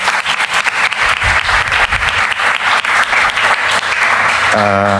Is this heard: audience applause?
yes